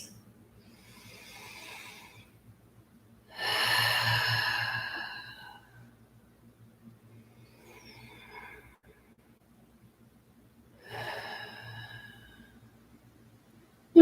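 Big, deliberate breaths during a yoga class: a faint breath, then a long, loud, airy exhale, followed by softer, shorter breaths spaced apart in a quiet room, close to the listener with no talking.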